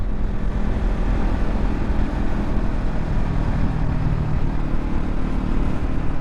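A Honda CB500F motorcycle being ridden after service work, a steady, loud engine drone with wind rush throughout, no talk.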